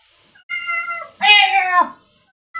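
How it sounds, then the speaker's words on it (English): Two clear, close cat meows in quick succession, the second louder and longer, with quiet pauses around them. "gonna meow again?"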